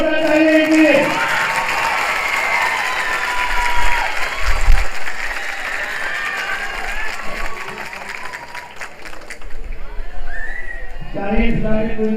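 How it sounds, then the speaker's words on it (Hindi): Applause from the audience at the final round of an Islamic quiz contest, a dense, sustained roar of clapping with some crowd noise. It fills most of the stretch, then thins out, and a voice comes in at the end. "अभी जोरदार तालियां दीजिए।"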